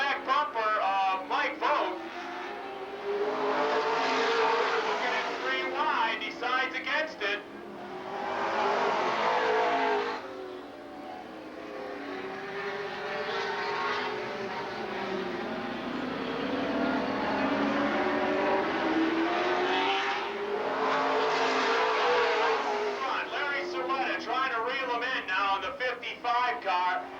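Super late model race cars roar around the oval at Lake Geneva Raceway in Wisconsin, engines surging and fading in long sweeping passes as the pack circles, loud and continuous throughout with a commentator talking over the action.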